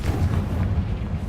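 An explosive blast spell from a Harry Potter wizarding video game, heard as a short, loud, booming burst that rumbles steadily low for just over a second.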